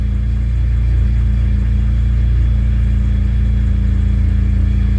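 A car engine idles after a bad fuel pump was replaced, a loud, steady low rumble with an even hum that holds unchanged throughout, no talking.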